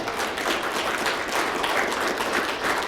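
A convention crowd at a union anniversary event claps steadily and continuously, dense applause at moderate loudness with no voices standing out.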